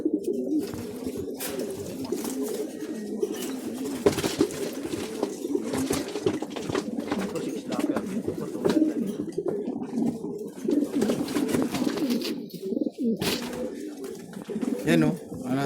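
Imported Taiwan pigeons coo continuously close by, a layered, throaty burbling that fills the scene while someone talks over it.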